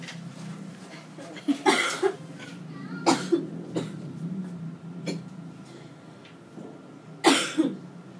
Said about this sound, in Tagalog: Ubo ka, ma'am.